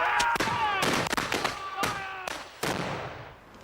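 A musket volley rings out in an English Civil War battle reenactment: a ragged series of sharp, loud bangs in quick succession with echoing tails, and voices shouting among the shots.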